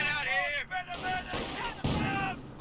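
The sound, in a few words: mortar fire in Company of Heroes video game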